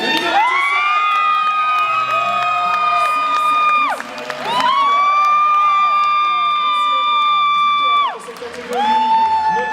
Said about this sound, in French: Un tonnerre d'applaudissements pour la grande gagnante de cette catégorie, Jay.